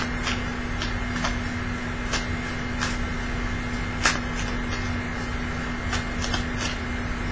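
Tarot cards are shuffled continuously, a close, dense riffling and sliding with regular sharper flicks and snaps, over a low steady electrical hum in the room.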